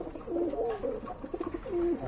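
A fancy pigeon on a Bangladeshi farm coos in short, throaty bursts, repeating several times at moderate distance with faint background noise.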